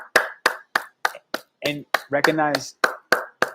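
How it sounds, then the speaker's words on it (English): A series of sharp hand claps in a steady, fairly quick rhythm, about a dozen in a few seconds, loud and close, with someone talking briefly partway through. "Can we do a clap real quick? Actually, I want you to clap with me"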